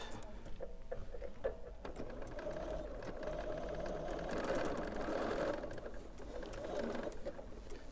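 Sewing machine stitching across the corners of a fabric shopping bag, a steady continuous motor whir with rapid needle patter running the whole time, close and moderately loud with no talking.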